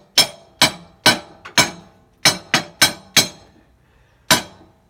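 A hammer striking metal on an Allis Chalmers Model B tractor, working a part loose near the fan; nine sharp ringing taps land in an uneven rhythm, close and loud, with a longer pause before the last blow.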